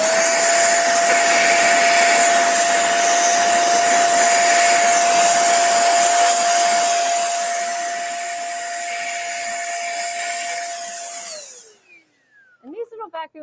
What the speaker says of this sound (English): So I use a vacuum.